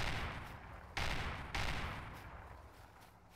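Gunfire in the Rust battle royale video game: a few sharp shots about half a second apart, each followed by a decaying echo, fairly loud with no talking.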